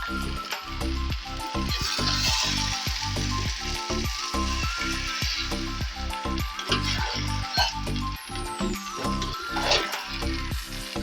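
Hot water poured into a hot pan while cooking a vegetarian dish sizzles under a quick run of rhythmic clattering and scraping, loud and close throughout.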